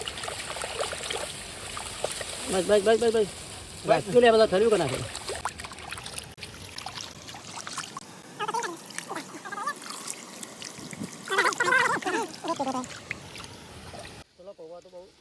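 Water poured and swished over flattened rice (poha) to wash it, with trickling and sloshing under a voice talking, followed by quieter handling.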